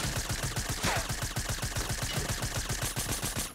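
Rapid, steady automatic gunfire from a weapon in Fortnite, a continuous stream of evenly spaced shots running throughout at moderate loudness.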